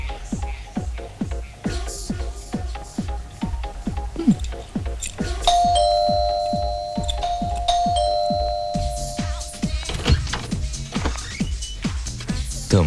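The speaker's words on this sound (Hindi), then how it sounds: "तो फिर घंटी क्यों नहीं बजाते?" A doorbell in a Hindi crime thriller film chimes with a sustained ringing tone midway, set against a repeated rhythmic dripping or tapping pattern that runs throughout.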